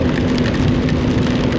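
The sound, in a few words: heavy rain falling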